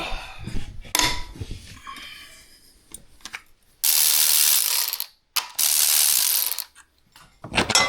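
A hand ratchet works loose 18mm motor mount bolts on a Ford Focus, with quick clicking bursts and two long sustained rapid ratcheting runs, close up among clanks of tools.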